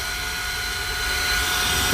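An OYLIK 2-in-1 cordless air duster vacuum rated at 90,000 RPM runs at full power, giving a loud, steady, jet-like high-pitched whine with a rushing airflow hiss held throughout.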